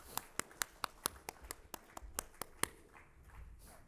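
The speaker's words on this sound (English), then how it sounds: "Big round of applause for Van Scraben." Scattered audience applause from a San Diego Comic-Con live actual-play crowd, a dozen or so sharp distinct claps in an uneven rhythm that thins out and fades into quiet room noise.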